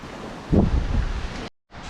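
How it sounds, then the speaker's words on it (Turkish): Strong stormy wind buffets the microphone in a village with a broad, rumbling roar that surges midway, then cuts out briefly before returning. "Hava çok rüzgarlı."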